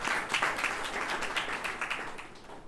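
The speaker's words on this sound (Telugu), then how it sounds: "అందరం చప్పట్లు కొట్టి దేవుని" A church congregation clapping together, dense fast applause filling the room steadily for a few seconds without speech.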